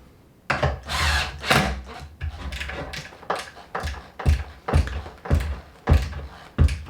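A power drill runs in short, repeated bursts while tightening skateboard hardware screws through grip tape, about a dozen close whirring pulses in an uneven rhythm, each with a brief rise and drop.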